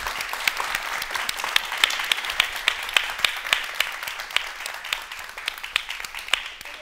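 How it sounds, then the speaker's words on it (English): A large audience at a disability rights event gives a sustained round of applause, steady dense clapping with sharp individual claps standing out throughout. "So please welcome me with a big round of applause"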